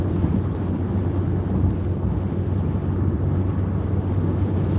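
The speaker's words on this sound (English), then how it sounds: "It's kind of breezy here too." Steady, loud wind gusting outdoors, a low roaring rush buffeting the microphone without pause, with no voices over it.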